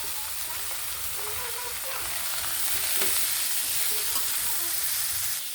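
Grass pea greens hitting hot oil with browned garlic in a pan, a steady loud sizzle and crackle of frying that holds throughout.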